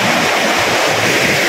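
A monsoon-season waterfall in the Udayagiri hills of Nellore district pours in a steady, dense rushing roar that fills the whole moment without a break, with no voices.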